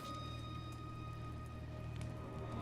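Rain falls in the video game God of War 2018 as a soft, steady patter of drops. It stays faint and even under a low constant hum.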